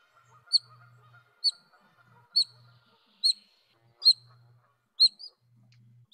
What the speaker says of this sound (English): this is what the otters sound like